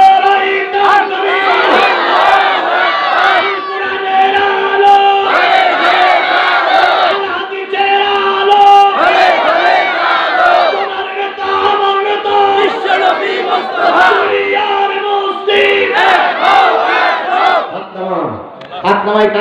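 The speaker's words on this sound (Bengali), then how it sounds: "জোরে একটা তাকবীর হবে" A large crowd at an outdoor Islamic sermon gathering chanting takbir, repeated loud, unison shouted calls in long bursts with brief pauses between, close and forceful, trailing into a lone voice at the end.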